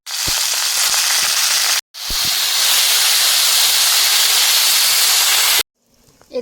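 Chopped Malabar spinach hitting hot oil with bay leaf and spices, a loud continuous sizzling hiss that cuts out briefly, resumes, then stops abruptly near the end.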